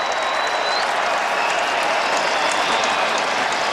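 Large stadium crowd applauding and cheering at a WVU vs Kansas college football game in Morgantown, a dense, steady wash of clapping and crowd noise heard at a distance, loud and continuous throughout.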